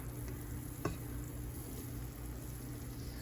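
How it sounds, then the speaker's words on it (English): Sugary jalapeño candy syrup boils in a pot, a steady low bubbling and sizzling hiss with one brief sharp knock partway through, no voices. "it came to a boil"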